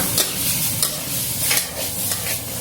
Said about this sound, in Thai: แล้วเราก็เร่งไฟแรงสุดเลยนะคะในการผัด